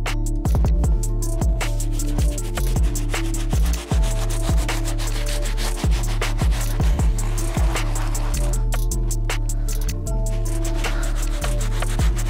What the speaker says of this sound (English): for the first step of this cleaning, we're going to use our soft bristle brush.